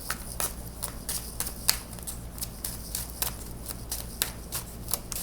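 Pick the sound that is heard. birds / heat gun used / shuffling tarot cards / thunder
shuffling tarot cards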